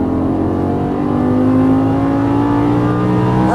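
A Lamborghini Gallardo LP550 accelerates hard out of a corner on a track, its engine note climbing in a loud, close, sustained rising whine with no talk over it.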